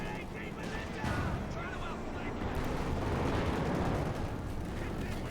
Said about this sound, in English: And we got cluster bombs.